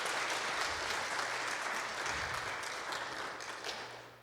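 Sustained applause from a church congregation during a Sunday worship service, dense steady clapping that fills the room and tapers slightly toward the end, with no talk over it.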